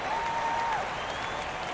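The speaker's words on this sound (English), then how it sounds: "A mock cheer goes up for the Metropolitan faithful" Synthetic crowd cheer in a computer baseball game, a Mets home crowd at Shea Stadium after a strikeout: a steady, sustained wash of cheering and applause at moderate level, with no talk over it.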